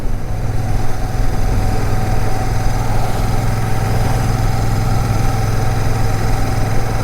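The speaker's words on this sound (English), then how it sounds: "we got a hill now, so we're in fourth. Let's see if it'll quite happily pull up the hill." Royal Enfield 650 Shotgun motorcycle engine pulling uphill in fourth gear, a steady low rumbling drone held at constant load throughout, close and loud with no talk over it.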